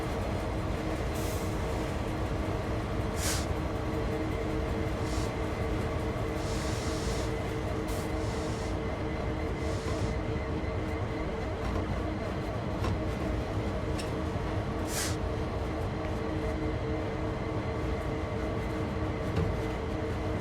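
Train running in a video game, a continuous low rumble with periodic clicking rail ticks and occasional sharp bright clanks over a steady rolling drone.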